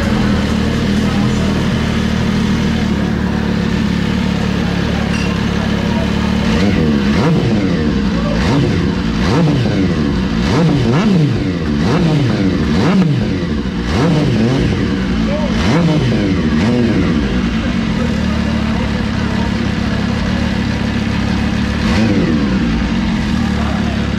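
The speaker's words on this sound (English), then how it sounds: "How many guys does it take to start a MV Agusta?" An MV Agusta limited edition motorcycle at an unveiling event: the engine starts after several attempts, then revs up and down repeatedly in loud sweeping bursts, settling back to a rough idle, with people talking in the background.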